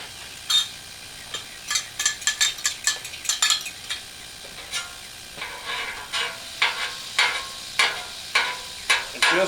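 Butter sizzling on a Blackstone 28-inch griddle, with a crisp close hiss and repeated scraping, stirring strokes in quick bursts, loud and without talk.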